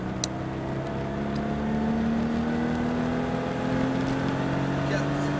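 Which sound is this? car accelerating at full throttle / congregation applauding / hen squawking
car accelerating at full throttle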